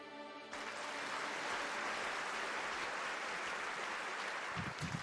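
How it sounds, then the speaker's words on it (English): Classmates stand and applaud at the end of a lecture, a dense, sustained burst of clapping from a crowd that begins abruptly after a brief pause and carries on steadily. "The classmates stand up and applaud for Estelle."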